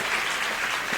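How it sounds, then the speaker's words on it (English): A crowd at a basketball game applauds for an injured player, a steady dense clatter of many hands clapping throughout. "Everybody claps their hands."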